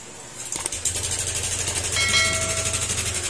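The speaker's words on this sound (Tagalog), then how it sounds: "Yan po yung tunog ng makina niya mga sir." Noisy engine of a Honda Click 125 scooter that had only just been repaired, running steadily nearby with a rough, clattering rattle, and a brief higher whine rising partway through.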